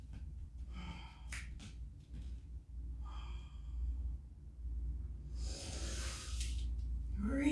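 Slow, deep breaths in and out during a gentle full-body mobility workout, with soft airy inhales and exhales coming in a few separate swells over a low, quiet background.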